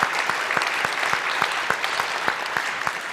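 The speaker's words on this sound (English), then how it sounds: "Give her a round of applause." An audience at a monthly meeting claps steadily, a crowd's applause with a few louder individual claps standing out in a rhythmic patter.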